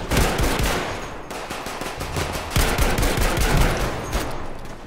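Gewehr rifle fire in Battlefield V, rapid sharp gunshots cracking in quick succession amid a dense burst of battlefield gunfire, loud and close with no talk.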